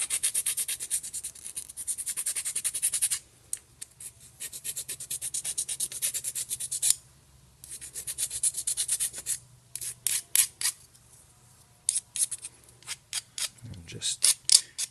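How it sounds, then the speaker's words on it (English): A finer file rasps around the top of a plastic dual cup drink holder from a 1997-2001 Subaru Forester or Impreza, cleaning up build-up around a pin: close, loud bursts of scraping strokes with short pauses between. "Now I'm just going to do around the top with a finer file, where it seeped through the hole."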